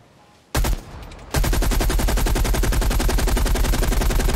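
An RPD light machine gun fires in Call of Duty: Cold War, opening with a short burst, then a long sustained stream of rapid, evenly spaced loud shots.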